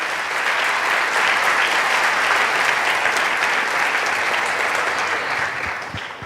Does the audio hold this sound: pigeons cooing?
no